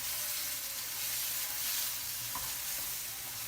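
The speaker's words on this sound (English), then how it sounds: "we'll keep mixing it and incorporate the oil into the dal" Dal sizzles steadily in hot oil while a spoon stirs it through, a close, even frying hiss with faint scraping of the pan and no voices.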